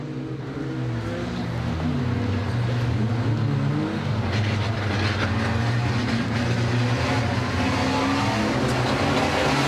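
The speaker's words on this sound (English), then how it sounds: "469, and we're off on the rolling lap of the first heat of the bomber class." Bomber-class stock cars rumbling around on a rolling lap before a heat at Warton Stock Car Club, a loud, continuous throaty engine drone with layered tones from several cars running together close by.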